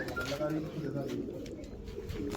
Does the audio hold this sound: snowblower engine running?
no